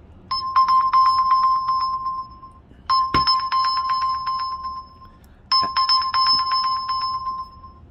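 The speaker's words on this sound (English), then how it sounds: "And as you can see, it rings quite loud, so you won't have a problem finding your phone." A loud electronic phone ringtone, triggered by a OnePlus Watch's locate-phone feature, plays in three repeated bursts, each a rapid warbling tone lasting a couple of seconds, with brief pauses between.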